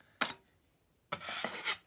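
Two short scraping strokes of a drywall knife spreading joint compound across sheetrock, the second longer and smoother, close and fairly quiet with no talk.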